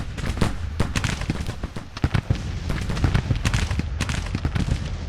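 Rapid cannon and musket fire in a Grand Tactician Civil War battle at Pea Ridge, dense overlapping bangs and crackles with no pause, loud and continuous.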